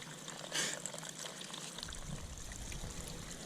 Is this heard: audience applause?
no